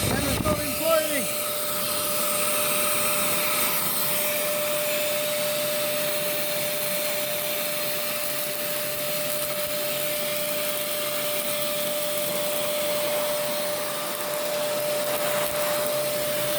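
Vacuum cleaner sucking up screws, a continuous loud whining hum with a steady high tone and airy hiss throughout, small rattles of debris drawn in along the way.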